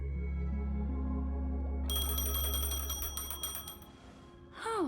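A phone rings in the Honkai Star Rail video game, a bright chiming tone that repeats rapidly over a low sustained musical backdrop and stops before a short rising sweep.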